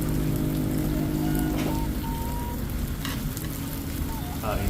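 Chicken fillet, squid rings and enoki mushrooms sizzling on a BBQ grill pan as they are stirred, a continuous loud hiss and crackle with occasional scraping and small pops, close by.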